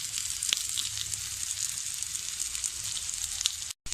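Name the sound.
capsicum frying in a pan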